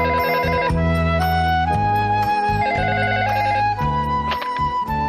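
A telephone rings continuously with a repeating electronic ringtone melody, loud and layered over a cartoon music bed, with no talk.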